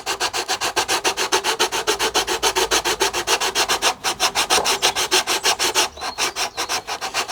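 Sandpaper wrapped around a curved object rubs a wooden Hawker Tempest replica model, making rapid, even back-and-forth scraping strokes, close and loud, with no talking.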